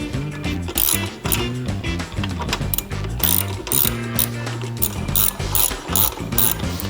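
A ratchet clicks in quick, repeated bursts while tightening mount bolts on a 2022–2024 Harley-Davidson Low Rider ST during a Softail conversion, with steady music playing underneath.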